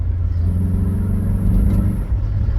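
An MG F's sporty exhaust burbles and rumbles steadily close by, a deep throaty drone with a slight swell near the end, no talking.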